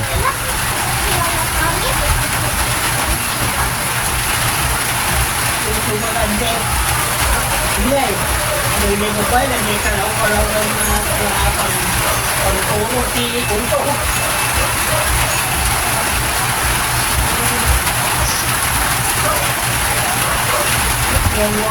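Steady heavy rain pours down throughout, a dense, unbroken hiss at a loud, even level during a Hanabishi wall fan repair, with faint voices in the background.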